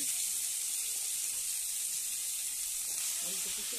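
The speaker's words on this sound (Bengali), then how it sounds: "এবার এই একই তেলে আলুগুলো ভেজে নেব।" Potatoes fry in oil already used for tangra fish, giving a steady, faint, even sizzle that holds throughout with no talking.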